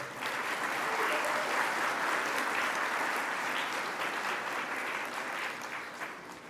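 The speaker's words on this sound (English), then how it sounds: "Another round of applause for these women." Sustained applause from a gathering on unmarked burials in Montreal, a thick, even roar of many hands clapping that holds steady for several seconds before easing slightly at the end.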